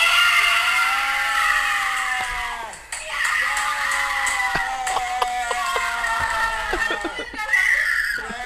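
A child's scream at home as a siren goes off, heard as a long, wavering high-pitched wail with bursts of shrieking and laughter, fairly loud in a household recording.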